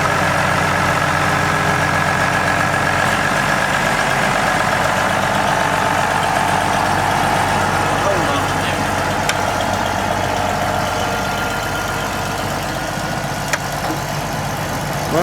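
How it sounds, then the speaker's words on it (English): Several antique tractors, including a 1938 Farmall F-20, idle and drive past at an outdoor tractor show, with a steady mix of engine rumble throughout and faint voices in the background. "here's another string of tractors"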